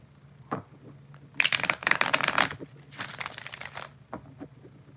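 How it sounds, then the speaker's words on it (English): Tarot cards being shuffled close by in several quick, crisp papery bursts separated by short pauses, with no talking. "We do one more shuffle"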